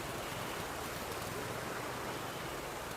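A clear-water river near Kotaraja, Ipoh, flows with a steady, dense rush of water, loud and continuous with no pauses, heard close by and alone without any voices.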